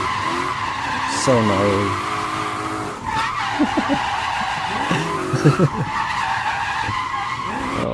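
A BMW E28 with a V8 drifts on a street, its tires skidding and squealing in rising and falling sweeps over a loud, revving engine, with brief excited talk in the middle.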